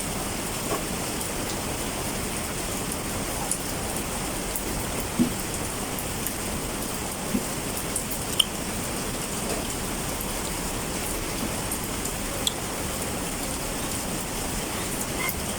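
Heavy rain from Typhoon Krisina pours down steadily, a dense even hiss of drops on surfaces with occasional sharper splats, continuous and fairly loud with no talk.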